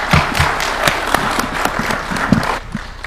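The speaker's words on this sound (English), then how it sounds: "Another round of applause for His Excellency." Applause for the president at a State House signing of Last Mile electricity connectivity contracts: a crowd claps steadily for three seconds, dense and fairly loud, with a few louder hand claps standing out near the start.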